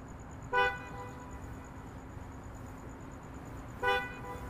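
A driverless robotaxi sounds two short car horn toots about three seconds apart, over a steady hum of traffic on the street outside.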